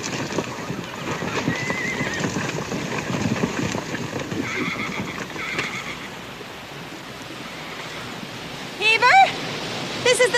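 Horses whinny sharply near the end over a steady background of hooves clopping and outdoor noise, with some voices mixed in, in a western TV series.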